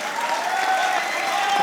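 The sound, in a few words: audience clapping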